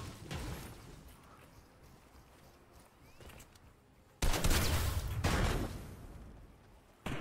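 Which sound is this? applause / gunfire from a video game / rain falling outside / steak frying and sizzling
gunfire from a video game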